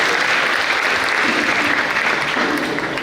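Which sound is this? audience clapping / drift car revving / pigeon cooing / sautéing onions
audience clapping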